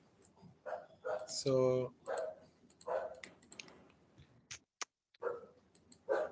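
A single short dog bark rings out once amid people talking, a brief, fairly loud yelp among clicking sounds in a quiet room.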